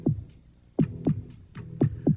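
A heartbeat sound effect from a TV advertisement thumps in steady lub-dub pairs, deep and close, repeating three times with short quiet gaps between.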